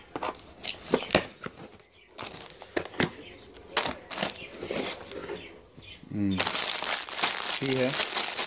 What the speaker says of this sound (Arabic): هنشوف بقى الشنطة دي او الكرتونة محتوياتها ايه. هنفتح اهو